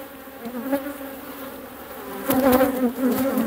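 Honey bees fly around a hive during a heavy nectar flow, making a dense, close, continuous buzzing hum that swells louder in the second half as bees pass near.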